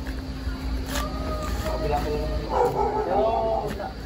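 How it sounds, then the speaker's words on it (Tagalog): Dog barking outdoors near a house gate and back fence, repeated yips and barks mixed with people talking close by. "May aso dyan?"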